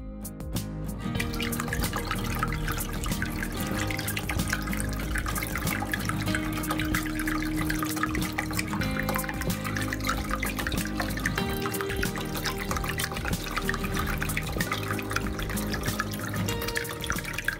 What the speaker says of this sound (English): I just love the sound of the running water, don't you?